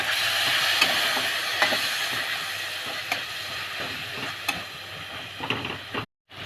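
Water poured into fried spice masala with chopped tomato in a pan gives a loud, dense, steady sizzling hiss with small crackles, cutting off abruptly near the end.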